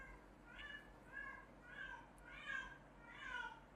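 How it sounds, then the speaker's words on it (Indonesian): A cat in heat meows repeatedly, five drawn-out, wavering calls spaced about evenly, moderately close and fairly faint over low steady background noise. "kalau kalian dengar suara itu suara kucing gue ya"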